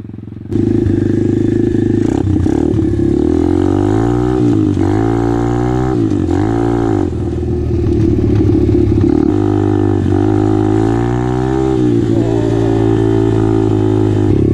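A motocross dirt bike engine catches and runs loud and close, its pitch rising and falling through repeated throttle revs over a rough idle.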